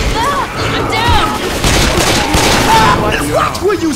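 Heavy gunfire in the Left 4 Dead 2 video game: loud, dense bursts of shots and booms that keep going throughout, with excited voices shouting and talking over the shooting.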